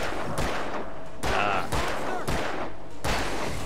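Rapid bursts of gunfire in the video game Alan Wake, several loud shots fired in quick succession over a dense, continuous background of game noise.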